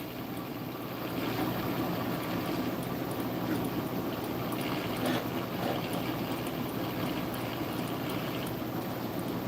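A findbuytool.com wood lathe spins at 800 RPM, giving a steady broadband whir with a low motor hum underneath. It runs continuously and evenly throughout at moderate volume, with no talking.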